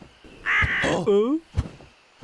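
Cartoon crow caws several times, loud and close, with harsh nasal calls sliding in pitch, followed by short sharp noises; cartoon character voices may sound around it.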